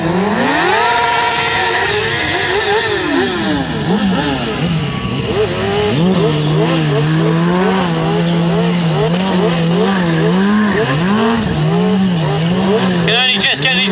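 Stunt motorbikes rev hard and skid inside a tight indoor arena, the engine pitch rising and falling over and over in a loud, continuous roar with tyre squeal and no clear talking.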